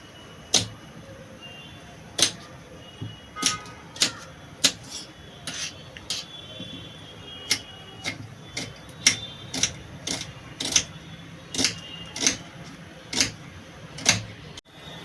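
A knife chopping onion on a cutting board in a home kitchen, with a steady series of sharp, distinct taps close by, alone and without talk.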